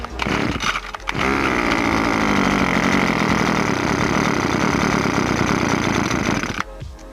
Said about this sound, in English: So I'm going to start this motor.